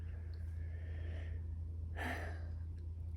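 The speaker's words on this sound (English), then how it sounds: "I don't know why I keep yawning." A person close by gives a breathy yawn, a drawn-out airy exhale rising and fading over a second, after an earlier softer breath, over a low steady hum.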